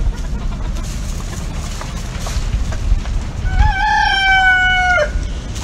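Backyard chicken run with hens clucking steadily nearby, then a rooster crows loudly and clearly near the end.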